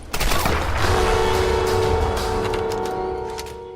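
Gunfire in the video game Tomb Raider (2013), a loud booming burst of shots that rings out and slowly decays, with no talking.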